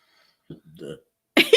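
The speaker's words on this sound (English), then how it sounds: "Oh, he burped." A short low burp from a baby, followed by a brief voice sound up close.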